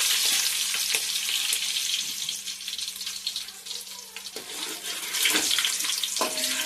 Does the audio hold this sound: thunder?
no